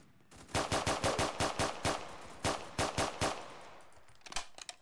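Bursts of automatic gunfire in the Roblox game Prison Life, about a dozen sharp rapid shots in quick clusters with short pauses, loud and close, then a few fainter shots at the end.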